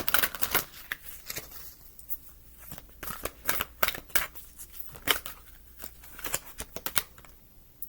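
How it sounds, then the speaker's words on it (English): Tarot cards riffled and shuffled by hand in a run of quick, crisp bursts of close papery flutter, with short pauses between the bursts. "Give this a shuffle."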